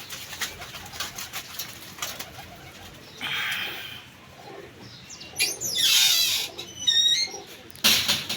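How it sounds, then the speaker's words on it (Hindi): Pigeons coo softly while wings flap and whir in several bursts, close and moderately loud, with scattered chirps and outdoor noise around them. "ये कबूतरों को नज़र में रखना, इनकी परफॉर्मेंसें देखना, इनकी उड़ार देखना"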